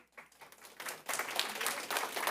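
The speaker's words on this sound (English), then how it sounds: "Please hold your applause" Applause breaks out at a Florida House subcommittee hearing on House Bill 999, starting faintly and swelling into steady clapping from a crowd of attendees in the room.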